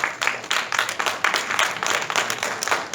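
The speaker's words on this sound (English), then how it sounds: "I hope some men were applauding there, by the way, as well as women." Conference audience applauding at the 26th TAFISA Congress in Tokyo, a steady wash of many hands clapping at moderate distance, continuous and fairly even with small surges, no voices on top.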